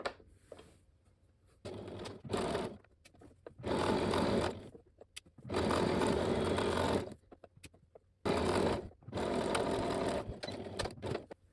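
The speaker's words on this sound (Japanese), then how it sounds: "奥身の端から 5mm のところを縫っていきます" Domestic sewing machine stitching fabric 5 mm from the edge for a sleeveless kimono costume, running in several close, steady bursts of rapid needle clatter separated by short pauses.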